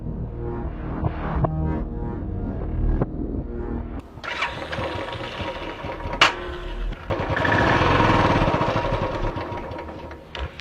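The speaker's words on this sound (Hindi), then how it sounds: "आपकी मोटरसाइकिल स्टार्ट हो गई है।" A motorcycle engine being coaxed to start after repair, with uneven mechanical clatter and bursts that build into a louder, steady running roar near the end.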